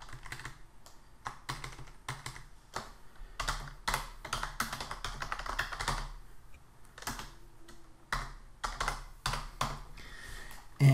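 A file name is typed on a computer keyboard, a close run of quick, uneven clicking keystrokes with short pauses between bursts in a quiet room.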